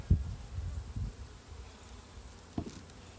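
Honey bees hum faintly and steadily during a hive inspection, with a couple of soft knocks and handling noises over the low drone.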